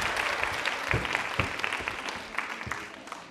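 A college audience at a New Year quiz show event claps in a brisk burst of applause, dense and steady, then thinning slightly toward the end.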